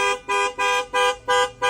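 A car horn sounds in five evenly spaced, sustained honks from a television show, loud and close, with no speech over it.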